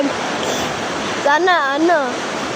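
A swollen, rising river rushes with a steady broadband roar. The flow continues unbroken, and a brief human voice cuts in partway through.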